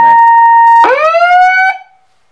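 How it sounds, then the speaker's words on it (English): A Gennexxa handheld megaphone first gives a brief steady electronic tone, then its siren switches on with a loud, close, rising wail that holds for about a second before cutting off abruptly. "Or flipping on the siren button, you can hear it turn on there."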